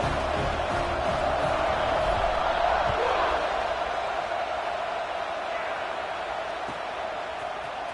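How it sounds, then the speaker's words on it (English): A college football stadium crowd at North Carolina vs Oregon cheers before kickoff, a broad, sustained roar that swells slightly and then eases, with faint talk mixed in. "this crowd is feeling themselves after that last drive"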